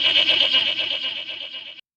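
A goat's bleat, wavering and nasal, sounds as one sustained call with a quivering, pulsing tremble, fairly close and clear, lasting nearly two seconds before cutting off abruptly.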